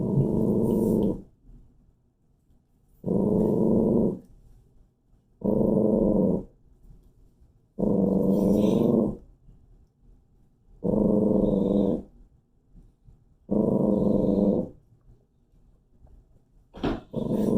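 A dog growls low and close in repeated bursts of one to two seconds, seven in total, separated by short pauses, with no talk over it.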